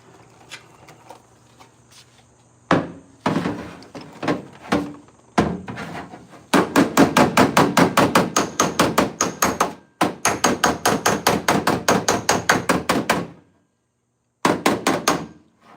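Rapid, loud hammer blows ring on metal in long rhythmic bursts, preceded by a few scattered heavy strikes, with brief pauses between runs.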